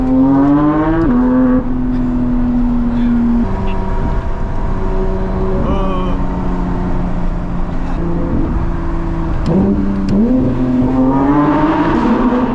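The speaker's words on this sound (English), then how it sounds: "Porsche has the best naturally aspirated sound. Yeah, 6-cylinder sound." A Porsche GT3's naturally aspirated six-cylinder engine revs and holds steady tones inside the cabin, pitch rising and dropping through gear changes, loud and close throughout.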